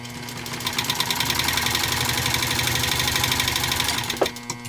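A 1956 Singer 99K sewing machine stitching denim, a fast steady mechanical chatter of the needle running continuously at close range, ending with a brief clunk as it stops.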